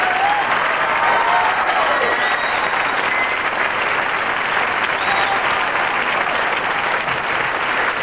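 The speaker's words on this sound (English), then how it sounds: "Let's have a real cheer for them." An audience at a 1980s break dance contest applauds and cheers for the dancers, a dense, steady roar of clapping throughout, with crowd voices mixed in.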